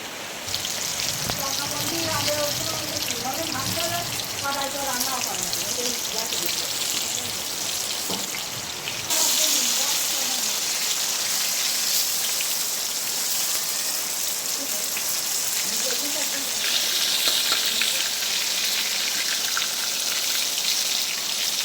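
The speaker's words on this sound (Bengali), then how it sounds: "সেগুলোকে আমি বেসনে চুবিয়ে তেলের মধ্যে দিয়ে ভেজে নেব।" Leaf fritters dipped in gram flour batter fry in hot oil with a dense, loud crackling sizzle that runs the whole time, and a voice talks over it during the first part.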